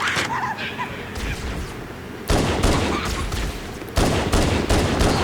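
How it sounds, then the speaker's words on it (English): Gunfire in Halo: Combat Evolved on the Silent Cartographer level, dense bursts of shots with loud sudden onsets around two and four seconds, layered over continuous battle noise. "I decided to just pop some headshots off"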